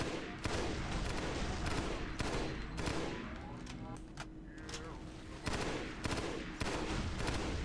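Rapid gunfire from the Halo SPV3 mod video game, dense automatic bursts hammering almost nonstop and emptying a full magazine, loud and close, with brief lulls between volleys.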